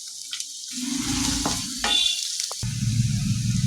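Chopped onions and whole spices like cardamom and green chili hit hot oil for a potato egg gravy, bursting into a loud close sizzle that swells and keeps crackling, with a few stirring scrapes and no voices.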